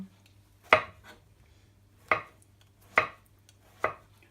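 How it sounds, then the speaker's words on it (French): A knife thinly slicing raw cep mushrooms on a cutting board gives four crisp, separate chops with uneven pauses between them, close and clear against a quiet background. "on reprend les cèpes et on va les émincer assez finement"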